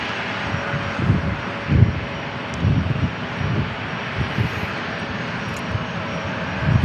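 Airliner taking off at San Diego International Airport, a steady loud roar of engines with a broad rumbling wash that pulses slightly throughout.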